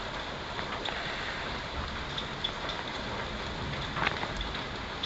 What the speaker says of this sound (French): Oh, on dirait vraiment qu'il pleut dans ma chambre